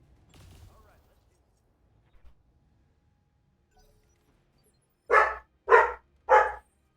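Three loud, evenly spaced dog barks ring out near the end, following a stretch of quiet with brief speech at the start.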